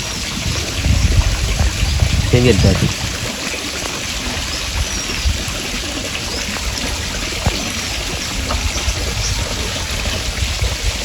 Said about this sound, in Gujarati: જો મિત્રો પાણી જાય છે વાળામાં